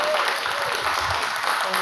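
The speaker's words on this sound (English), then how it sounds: "let's all give a big round of applause to Claire." Audience at a craft talk applauds in a short, steady wash of clapping with speech faintly mixed in.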